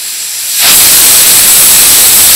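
Steam from a pressure cooker holding aviyal, a vegetable curry, bursts out abruptly after a quiet moment and keeps hissing loudly and steadily, close by and alone.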